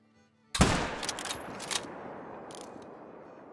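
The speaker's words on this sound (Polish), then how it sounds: "Ale nie jestem pewien, czy to był dobry strzał." A single rifle shot fired at an animal in the hunting game theHunter: Call of the Wild cracks sharply after a quiet moment, then its echo trails off slowly.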